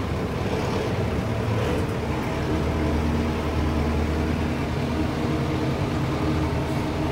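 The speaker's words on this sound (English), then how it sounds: "So it's a nice little Kubota tractor." A Kubota 12-speed tractor engine runs loud and close in a constant, rumbling drone that never lets up, with no voices.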